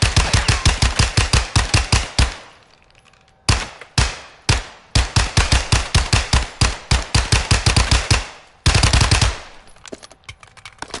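Automatic gunfire in Call of Duty Modern Warfare 2 multiplayer, loud rapid bursts of sharp shots in long strings separated by brief pauses and a few short single bursts, no talking.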